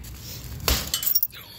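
Glass from an oven door is smashed in one sharp, close crash of shattering glass, followed by a few scattered tinkling fragments settling.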